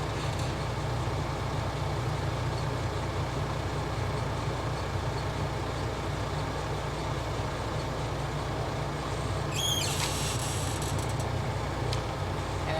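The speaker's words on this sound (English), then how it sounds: "I'm going to press on the clutch and the brake to stop the vehicle" A Class A truck's steady low engine rumble with the cab noise, ending in a sharp hiss of the air brakes as the vehicle comes to a stop during an air-brake test.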